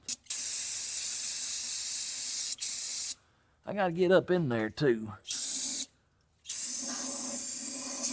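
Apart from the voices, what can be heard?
spraying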